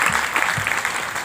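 Religious discourse listeners clap on request, a burst of brisk, dense applause fairly close and loud, with a faint voice briefly audible beneath.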